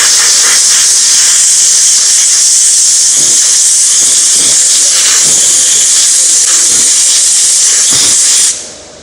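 A plastic welding station blows a loud, steady hiss of hot air while heating a plastic edge for repair, holding constant close up before cutting off abruptly at the end.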